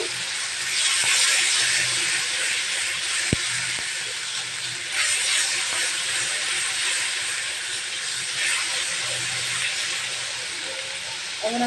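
Pangas fish fries in a pan with a bright, steady hiss that swells now and then, punctuated by a sharp utensil clank near the middle.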